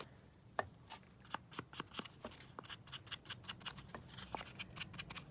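Scissors snipping a paper tag for a junk journal, a quick series of soft, close cuts in an irregular rhythm with no voices.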